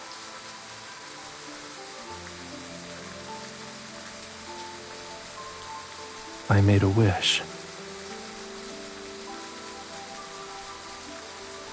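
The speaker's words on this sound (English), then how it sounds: "I wanted the rain to last a little longer." Steady rain hisses evenly throughout, with soft musical tones beneath and someone speaking briefly in the middle.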